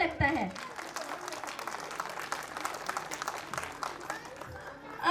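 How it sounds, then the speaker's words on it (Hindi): An audience at a school annual function claps in a loose, uneven patter of scattered hands, fairly faint, with voices murmuring among the applause. "तो प्लीज तालियां बजाइए ना"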